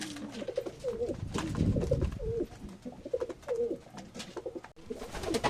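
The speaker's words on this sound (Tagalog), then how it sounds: "nagpapakain tayo ng mga kalapati natin" Young pigeons being fed coo repeatedly in soft, throaty phrases, several birds overlapping at close range, with a low murmur of rustling in the background.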